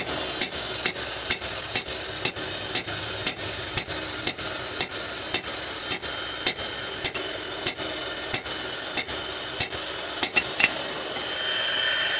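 A hammer strikes hot steel while a meat cleaver is being forged, about two dozen sharp, evenly spaced blows ringing out loudly over a constant background hum.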